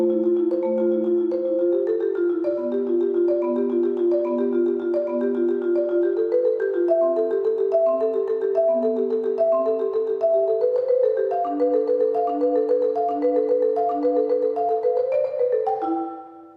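A keyboard percussion instrument plays the Urbina Outfitters exercise of single independent strokes, a steady, continuous stream of ringing pitched mallet notes stepping through shifting patterns for about sixteen seconds, solo and close, fading at the end.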